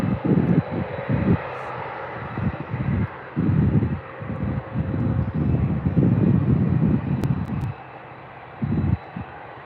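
An A320 airliner taxis toward the runway at Birmingham airport. A low, heavy engine rumble comes in uneven, gusting surges, with a quieter stretch near the end.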